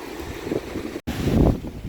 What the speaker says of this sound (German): Ich weiß gar nicht, was man hört mit diesem Wind